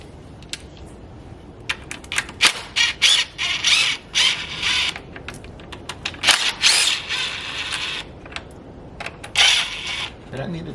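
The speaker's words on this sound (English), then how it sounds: "so I will be using my impact driver" Impact driver working on the engine of a 2000 Mercury Sable, giving short uneven bursts of rattling hammering with pauses between them, close and fairly loud, and the bursts continuing through most of the stretch.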